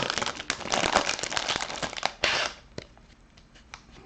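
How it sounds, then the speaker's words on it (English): Crinkly foil wrappers of 2019 Bowman Draft baseball card packs are torn open and crumpled close up, with dense crackling bursts fading into sparse, softer rustles. "If that wasn't enough crinkling for everybody"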